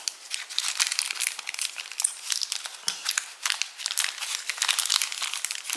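Continuous crinkling of the plastic wrapping on transparent double-sided tape, dense crackly rustles close up, steady and busy throughout with no voices.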